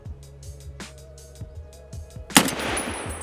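Escape From Tarkov gunfire: a sequence of sharp, fairly distant single shots repeating at a steady pace, followed by one loud, close, bright shot that leaves a lingering noisy tail.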